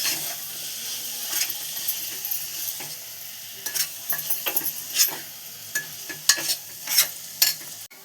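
Potatoes and ground masala are being stir-fried in a pan for green pea dal, with a soft steady sizzle under repeated scraping and stirring strokes that grow more frequent toward the end, close and fairly quiet.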